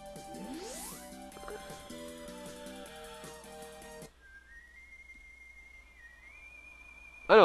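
Proto Man's whistle from the video game Mega Man 7 plays as a clear melodic whistled tune after background game music cuts off, followed by a sharp sound effect at the end.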